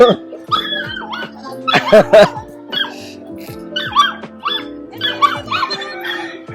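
Dogs yip and whimper in short, high-pitched bursts with a few barks, mixed with people talking nearby.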